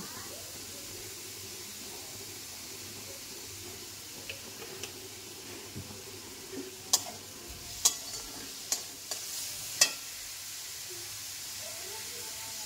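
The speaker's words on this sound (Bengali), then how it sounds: "পেঁয়াজ, রসুন, লঙ্কা, শুকনো লঙ্কা, তেজপাতাটা একটু ভেজে নিলাম" Onion, garlic, green and dried red chillies and a bay leaf frying in oil, a faint low sizzle with a few sharp clicks and taps from a spoon against the pan, quiet and with no talking.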